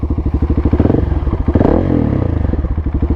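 A 2021 KTM 690 SMC R supermoto's single-cylinder engine thumps in a rapid, loud, close pulse, swelling briefly as it revs before settling back into a steady throbbing beat.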